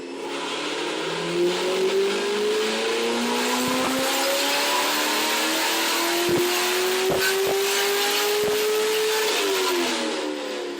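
A 2014 Corvette Z51 on a dyno revs up in one long climbing pull, the engine tone rising steadily and loud for several seconds before dropping off as the throttle closes, with a few sharp mechanical clicks along the way.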